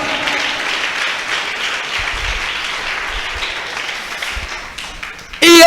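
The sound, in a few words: congregation applauding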